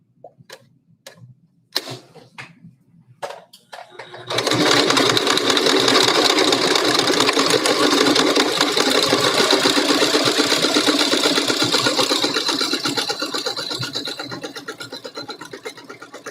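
A few sharp clicks and taps of handling come first, then a sewing machine whirs into a fast, steady, close mechanical stitching run that slowly eases off toward the end, stitching a fabric seam for a mask.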